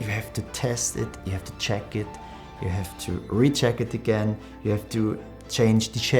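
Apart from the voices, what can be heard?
No everyday noises stand out.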